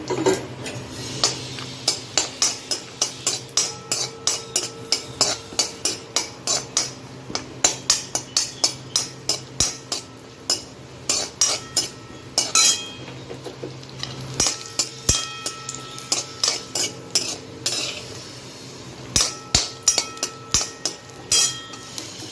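Cashew nuts being roasted in a pan for bread halwa, with a long run of sharp, regular clinks and scrapes of a utensil against the pan over a faint sizzle, close by and with no talking.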